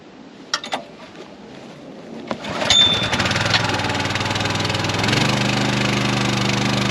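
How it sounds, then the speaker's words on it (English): A small petrol engine is pull-started on a UK smallholding during a water tank repair: a couple of sharp cord-pull rasps, then it catches and settles into a loud, steady running drone close by. "Switch on the engine to make sure if it does fire up, it will start."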